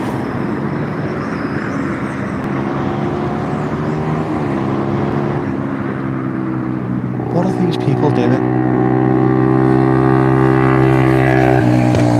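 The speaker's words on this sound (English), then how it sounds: "Why have your car and bike set up so it just makes loads of noise and pops and bangs?" A loud, rumbling vehicle engine revs steadily, growing harsher and louder toward the end, with no distinct crackling pops standing out.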